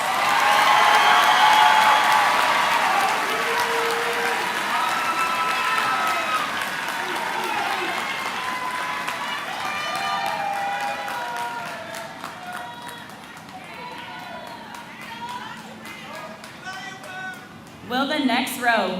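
A graduation audience at Southwest Edgecombe High School applauds loudly at first, the clapping fading gradually while voices and cheers mix in beneath, with a brief burst of sound near the end.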